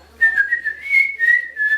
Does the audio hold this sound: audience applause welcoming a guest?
no